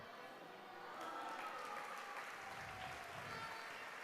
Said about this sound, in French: on applaudit le rallye qui vient de se terminer